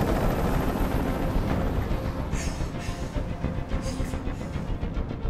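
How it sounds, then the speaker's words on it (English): A helicopter hovers overhead amid a hostage standoff in the video game Detroit: Become Human, a dense, steady rumbling roar filling the scene with no speech. "Tell that helicopter to get out of here."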